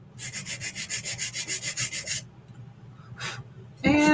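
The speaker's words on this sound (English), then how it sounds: "you could go along and you could sand" Edges of a chalk-painted wooden book stack are sanded in about a dozen quick, rhythmic rubbing strokes, close and even, followed by a pause, one more short stroke and a brief knock.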